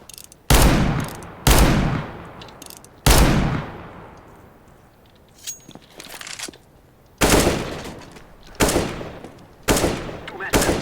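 R8 revolver shots in CS:GO on Dust II ring out as several loud, sharp single cracks spaced irregularly, each with a short decaying tail, with other game noise between them.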